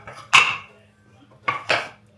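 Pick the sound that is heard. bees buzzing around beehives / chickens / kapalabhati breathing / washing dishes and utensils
washing dishes and utensils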